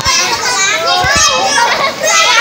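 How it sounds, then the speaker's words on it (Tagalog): Children play and swim in a river under a bridge, their excited shouts and chatter close and loud, with splashy outdoor background noise. "look at the kids. They are enjoying swimming."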